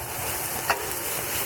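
Garlic cloves and a squeeze of lemon, with saffron, being stirred in a pan while cooking rice with chicken, giving a steady low sizzle with one brief scrape of the spoon midway.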